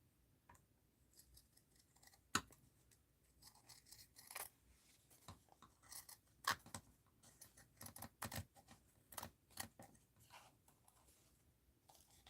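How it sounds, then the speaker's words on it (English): Scissors trim a paper craft piece, giving a series of close, quiet, irregular snips and paper rustles with short pauses between cuts. "let's go ahead and trim this part off"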